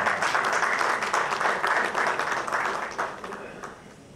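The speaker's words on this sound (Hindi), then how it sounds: "खन्ना जी आए हैं, हमारे गुरुजी, डांस मास्टर, एक ताली हो जाए" A crowd at a Bhojpuri film music launch event claps and applauds loudly and steadily, then tapers off toward the end, with a voice briefly audible under the clapping.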